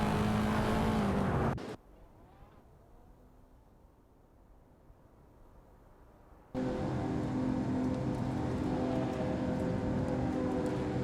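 Racing supercars roar in a video game race at Fuji, a Lamborghini among them, their engines loud and continuous, dropping to a quieter hiss for a few seconds before returning at full volume.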